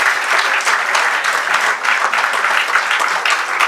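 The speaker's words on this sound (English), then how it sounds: "Come on, once again, a huge round of applause" Audience at a seminar inaugural function in a hotel in Lonavala gives a loud, sustained round of applause, dense clapping from many people with no voices over it.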